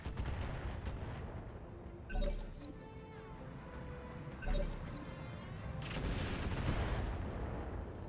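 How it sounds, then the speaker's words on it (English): Weapons fire on a Gauss emplacement in the BattleTech video game RogueTech, a dense rumbling barrage with two sharper impacts standing out, steady and loud throughout. "I want you to continue to fire on the Gauss emplacement."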